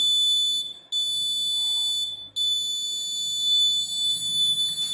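A laser security alarm sounds a loud, steady high-pitched electronic tone, broken by two brief gaps near the start, then holding on continuously to the end with no talking.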